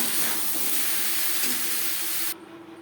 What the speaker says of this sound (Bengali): পাঁচফোড়ন ভাজা হয়ে গেছে।